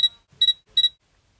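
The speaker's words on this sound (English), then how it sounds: "turn off all the beeps and noises coming from your A7 Mark III" Three short, high electronic beeps from a Sony A7 III camera in quick succession, clean and close, with silence between them.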